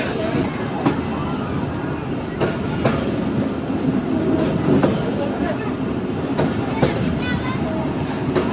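Mohen Jo Daro Express passenger train running through the Sindh countryside, a loud continuous rumble of wheels on track with repeated clattering rail-joint knocks and faint squeals, close by, with someone talking over it.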